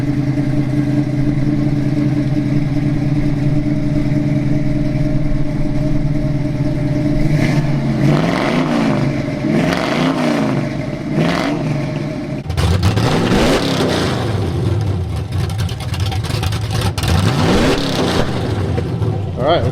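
An LS V8 fitted with a budget camshaft idles with a lumpy, loping burble in a C10 pickup, then revs sharply several times in rising, falling bursts, loud and close with no exhaust fitted.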